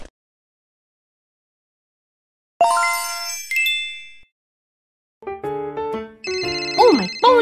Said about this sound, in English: Oh, my phone's ringing. Let's get the phone.